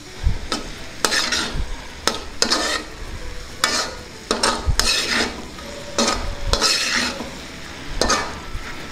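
Masala powder is stirred into a pudina cabbage curry in a pan, with repeated sharp spoon scrapes and clinks against the metal roughly every second over a soft, steady sizzle.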